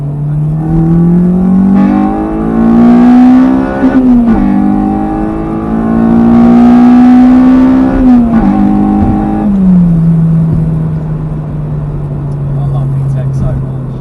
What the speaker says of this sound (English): I just can't resist doing a VTEC.